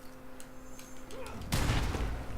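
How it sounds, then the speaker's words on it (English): Gunfire aimed at the player in a video game: a burst of loud, rumbling shots and booms erupts after a quieter stretch of faint ticks and hum, with the barrage continuing to the end. "Who the fuck's shooting me? Is it a sniper?"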